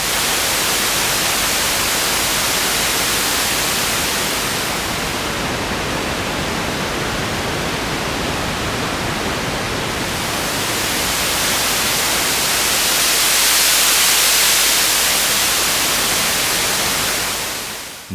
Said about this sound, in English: If you feed it white, you will get out pink noise